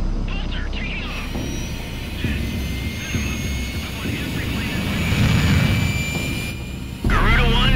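A fighter jet roars and whines as it takes off in the video game Ace Combat 6, the engine noise building loud and close under radio-style voices talking.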